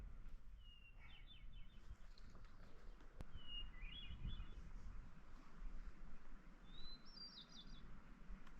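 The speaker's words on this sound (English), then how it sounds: "First song I've learnt in the Sierras is the hermit thrush." A hermit thrush sings from a treetop in the Sierra Nevada, giving three short, airy phrases spaced a few seconds apart, fairly faint and distant over a low outdoor rumble.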